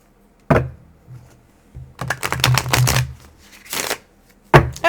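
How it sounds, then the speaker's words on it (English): Tarot cards are shuffled by hand in several bursts: a sharp riffle, then a rapid run of flutters and snaps, ending with another quick shuffle. "Let's shuffle you one more time."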